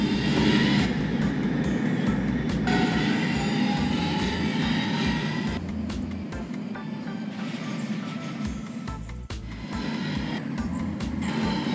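A subway train running in the Roblox game, a loud, steady rumble of wheels and carriage noise that carries on throughout, with shifts in tone as it moves along.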